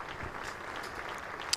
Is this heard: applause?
yes